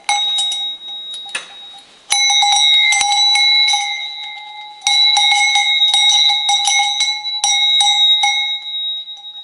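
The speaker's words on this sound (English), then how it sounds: "this is a bell that I like the Swiss bells" A Swiss cowbell rings with clear metallic tones and a lingering resonance, shaken in bursts of rapid clanging separated by brief pauses, close and loud with no talk.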